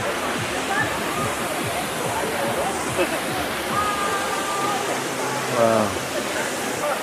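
River water rushes steadily under a bridge at Barili, Cebu, in the Philippines, a broad continuous wash close by, while people talk over it.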